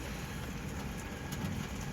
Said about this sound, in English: it is raining pretty good right now